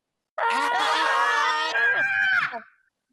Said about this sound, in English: The badger beetle roars and they run away, screaming.